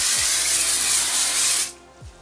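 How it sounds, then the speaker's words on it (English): A Cyber Colors SPF face spray hisses in one continuous, close, loud burst lasting under two seconds, then stops cleanly, leaving quiet room tone. "So this is my Cyber Colors SPF spray."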